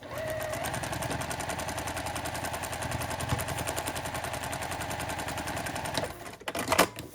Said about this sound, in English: Hold everything together, flip it over, and then sew on this line here right next to A6.